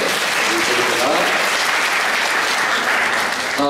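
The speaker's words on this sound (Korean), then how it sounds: "우리 귀한 말씀 전해주신 우리 목사님께 우리 감사의 박수를 드립니다" Loud, dense applause from a church congregation fills a Sunday worship service, sustained and unbroken from start to finish.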